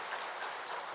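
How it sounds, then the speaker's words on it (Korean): Church congregation applauding during a Sunday worship service, a steady wash of clapping from many hands at moderate volume with no pauses. "우리 큰 박수로 함께 축복하겠습니다"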